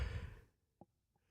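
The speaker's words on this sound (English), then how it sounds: "That was a good yawn." A play-by-play commentator yawns during a Philadelphia 76ers at San Antonio Spurs broadcast: a breathy, drawn-out exhale that fades into near silence, followed by a faint tap and a soft click.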